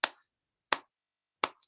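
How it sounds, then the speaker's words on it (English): A school assembly audience gives a three-power clap: three sharp, loud claps spaced evenly about 0.7 seconds apart, crisp and close with silence between them and no voices. "let's make sure we give her a really strong 3-power clap"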